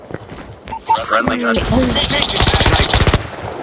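Rapid automatic gunfire from a first-person video game, a dense burst of close, loud shots in the second half, preceded by scattered game effects and brief sounds.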